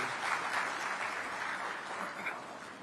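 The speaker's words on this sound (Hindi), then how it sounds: "आप सभी से आग्रह करता हूं कि एक बार जोरदार तालियों से" Sustained applause from the audience at an awards ceremony in Raipur, a steady even wash of clapping that holds at moderate level throughout.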